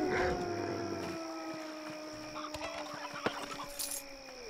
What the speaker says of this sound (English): Something wrong with this chicken?